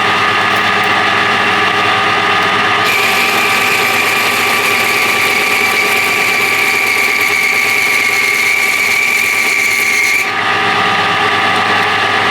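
A spinning tool cuts a small groove into a chopper engine part, a steady high rasping whine that holds for about seven seconds over a constant motor hum.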